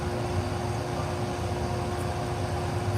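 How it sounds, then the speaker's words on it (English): A dust collector runs in a shear-sharpening workshop, a steady close hum of motor and rushing air with a constant tone, continuous throughout with no talking. "I'm going to have to turn on the dust collector. Sorry about the noise."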